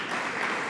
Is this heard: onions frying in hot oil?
no